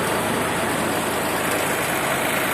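A small Iseki TU175 tractor engine idles steadily with a continuous low rumble and rattle, close by and fairly loud, with no pauses.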